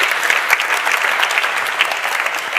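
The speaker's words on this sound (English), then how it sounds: "please, a warm applause for the panels." An audience at a conference on Europe's role in artificial intelligence gives loud, dense applause to a panel. The full, even roar of clapping carries a few standout claps and continues without pause and without talk.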